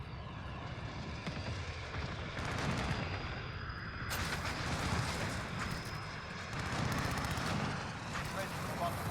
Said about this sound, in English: Phoenix 3-1. Dropping white phosphorus.